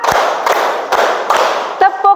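Class of students clapping a set pattern at a teacher's cue in a classroom, four sharp, evenly spaced claps over a steady background hiss, followed by a brief voice.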